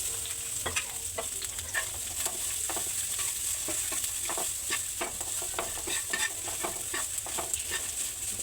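Washed vermicelli frying in ghee hisses in a steady, dense sizzle, with rapid rhythmic scrapes and taps of a spoon stirring through the pan, close and continuous with no talking.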